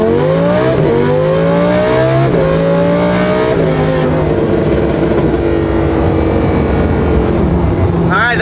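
A naturally aspirated Lamborghini V10 pulls hard at full throttle, engine climbing through repeated rising sweeps with gear changes, loud and close, sustained for the whole stretch without talk.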